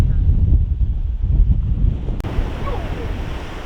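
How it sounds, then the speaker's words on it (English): Surf and wind at Peggy's Cove, Nova Scotia: a steady roar of ocean waves breaking against the rocky shore beneath heavy gusts buffeting the microphone, loud and continuous, with a brief thump partway through. "The ocean was crashing against the rocks"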